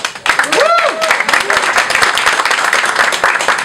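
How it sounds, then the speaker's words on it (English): Loud audience applause and clapping fills the room at a Queens Borough Hall Pride awards event, a dense steady patter with a few cheers mixed in. "Let's hear it for Councilman Drum"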